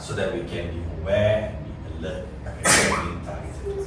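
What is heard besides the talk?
sneeze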